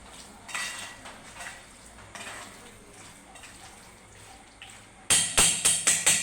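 A utensil scrapes and stirs through a mix of village-style chicken, salt and spices in a metal pot with soft irregular strokes, then ends in a burst of sharp, rapid clinks and scrapes.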